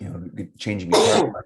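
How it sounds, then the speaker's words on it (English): A single short cough from a man recovering after COVID, close and fairly loud, following brief speech at the start. "that's a cough. That's my post-COVID cough."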